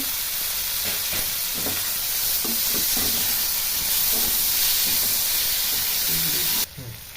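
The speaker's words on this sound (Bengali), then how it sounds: "কাঁচা গন্ধ বেরার পরে আমি টমেটো কুচি দিয়ে দিব।" Chopped tomato hitting hot spiced oil in a pan with broccoli and potato, a loud broad hissing sizzle held steady, with faint stirring knocks underneath, then abruptly dropping at the end.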